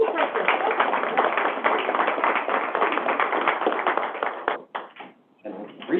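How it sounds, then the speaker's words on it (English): Applause from an audience at a VLAC meeting, a dense steady clapping that fills most of the clip and then breaks into a few scattered, fading claps near the end. "So would you just applaud them,"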